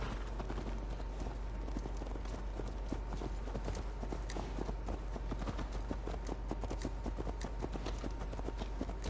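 Horse hooves clip-clopping in the Assassin's Creed Valhalla video game, a rapid, steady patter of hoof strikes over a dense background bed of game sound, continuous throughout.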